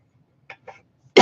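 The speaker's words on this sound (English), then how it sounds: "Excuse me, just cough there." A man lets out a couple of small throat sounds and then one sharp, loud cough close to the microphone at the very end.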